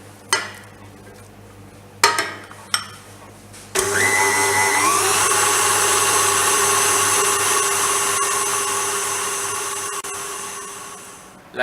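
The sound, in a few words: food processor mixing almond paste ingredients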